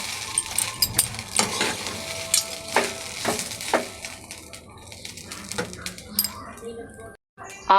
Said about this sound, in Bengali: নুন দিয়ে ভালো করে নাড়ছি।